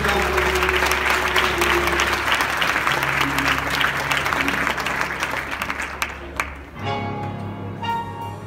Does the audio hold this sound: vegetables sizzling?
no